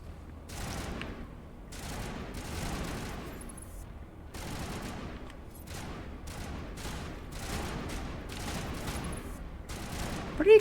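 Enemy gunfire in a sci-fi shooter video game: repeated bursts of automatic fire and scattered shots crackle steadily at moderate loudness, with brief pauses between volleys and a sharp louder hit at the very end.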